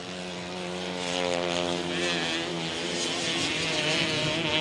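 A grasstrack racing motorcycle engine screams at full throttle on the last lap of a British championship race, a loud, steady high-revving drone with a faint rising pitch. No one speaks over it.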